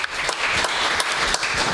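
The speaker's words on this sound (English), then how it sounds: "And another round of applause for Dan and that terralacious poem." An audience at a live show gives a steady, dense burst of applause for a poem, close and sustained across the whole moment with no speech over it.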